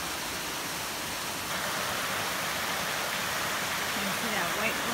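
Along the Appalachian Trail in New York, a waterfall and stream rush steadily as a dense, hissing wash of water noise that grows louder partway through and continues without a break.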